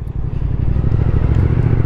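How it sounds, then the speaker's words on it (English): A 2021 Triumph Speed Twin 1200 with a high-torque engine idles close by while warming up, a loud, steady, rapid lumpy thump. "Just warm the bike up a bit."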